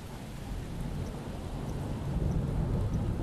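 Thunder rumbling during a storm in an animated film, a low continuous roll layered with steady rain, moderately loud and without speech.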